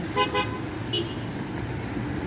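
Road traffic near a hospital rumbles steadily as a car horn toots a couple of short honks near the start, with a brief higher tone shortly after.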